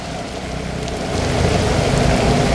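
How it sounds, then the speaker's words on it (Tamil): Heavy rain pours onto a flooded road, a dense, steady hiss of drops that swells slightly louder toward the end, with no voices. "நல்ல கடும் மழை ஒன்று வந்து பெய்ய ஆரம்பிச்சிருக்குதுங்களா"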